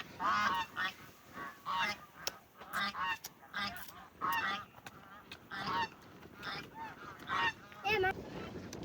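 Crossbred geese with Russian goose stock at a farm, honking repeatedly in loud, close bursts, several birds calling over one another in an irregular rhythm.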